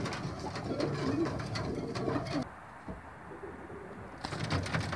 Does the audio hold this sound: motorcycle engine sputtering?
no